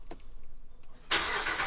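A 2019 Ram truck engine cranks and fires up when started with the key fob present, a sudden loud catch after a quiet pause, then settling into a steady close rumble.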